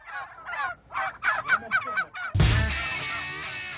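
Turkeys on a farm gobble in a rapid series of rattling calls, then a louder, sustained burst of overlapping gobbles, near and clear with no talking.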